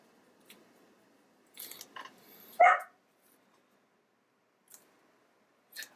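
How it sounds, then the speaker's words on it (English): A dog lets out a single sharp bark close by, set among a few faint clicks and rustles in an otherwise quiet room where art journal work is underway. "I'm ignoring you, dog."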